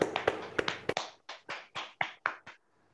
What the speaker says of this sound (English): Toastmasters, can we have a big round of applause to Somashekar?